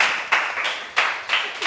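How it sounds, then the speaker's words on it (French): Audience clapping for a contestant on a French game show, a dense patter of hands rising in brief swells, fairly close and loud, with no talk over it. "On peut applaudir, s'il vous plaît, Michel, bien sûr, qui remporte 10 points."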